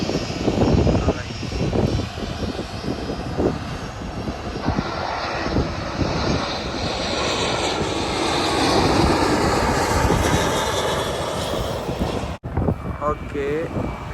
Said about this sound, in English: a jet star which went go around is coming now